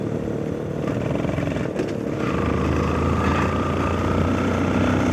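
A motorcycle putt-putts along a road ahead, trailing smoke, heard as a continuous engine drone from a moving vehicle. The tone shifts slightly about two seconds in, then settles into a steadier hum.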